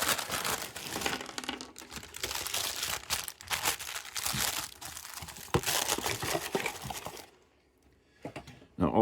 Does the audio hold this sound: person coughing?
no